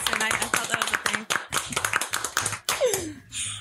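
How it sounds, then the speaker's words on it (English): Hands clap in quick, uneven bursts during a podcast recording, close and fairly loud, mixed with people talking and a bit of laughter. "Yeah, you can clap for yourself."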